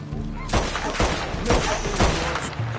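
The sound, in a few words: gunfire in a video game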